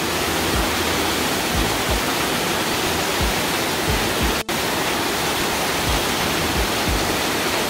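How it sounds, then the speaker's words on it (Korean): A waterfall inside a limestone cave, Hwanseon Cave in Samcheok, roars in a steady, dense rush of water close by, filling the space evenly with no pauses. "이것이 소망폭포입니다."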